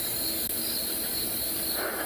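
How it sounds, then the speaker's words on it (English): Dung beetles fly around at sunset, giving a smooth, steady drone like a distant drone or helicopter. The whirring hum continues throughout, fairly faint, with no voices. "the big insects you can hear flying around are actually dung beetles. They sound a bit like drones or helicopters"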